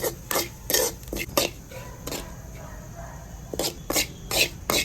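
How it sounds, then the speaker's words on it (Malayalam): Grated coconut roasting in a pan for bitter gourd theeyal is stirred with a spoon, giving scattered scraping and clinking strokes in short irregular bursts, close and clear. "ആ സമയം വരെ നമുക്കൊന്ന് ഇങ്ങനെ വറുത്തെടുക്കാം തേങ്ങ."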